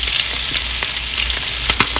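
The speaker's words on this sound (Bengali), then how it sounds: "একটাই ইলিশ মাছ ভাজা," A single hilsa fish fries in hot oil in a small pan, giving a dense, steady sizzle with crackling pops throughout and no voices.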